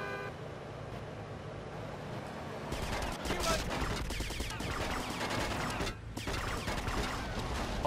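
Rapid machine gun fire from a GTA Vice City shootout erupts in dense, loud bursts after a quieter stretch of street traffic and engine noise, with brief gaps between volleys.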